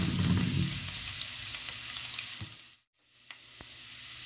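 Ginger sizzling as it sautés in a hot pan, a steady broadband frying hiss with a brief dip near the end and a few soft clicks from stirring.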